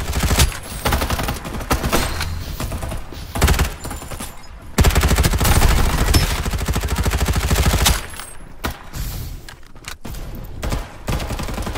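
Heavy, rapid gunfire in the battle game Farlight 84, loud and sustained in dense bursts that drop out briefly and then resume.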